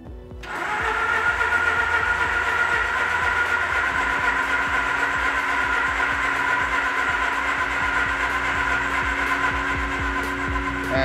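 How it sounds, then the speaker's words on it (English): A barn-find Mazda RX8 rotary engine cranks at full throttle without catching, a loud, steady whirring drone of the starter spinning the engine that runs unbroken for about ten seconds. "This is gonna be it. It's gonna start. Full throttle."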